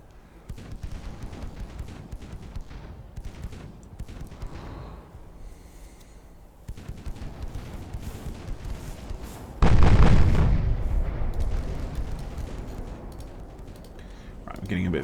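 A warship's heavy guns fire in the naval video game Ultimate Admiral Dreadnoughts, in a Japanese campaign battle: one loud, booming blast midway that rolls off into a long rumble over a steady background hum.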